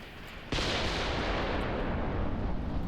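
Artillery and gunfire in the Graviteam Tactics war game open suddenly as a loud, dense barrage and continue as a sustained, roaring wall of blasts with no gaps.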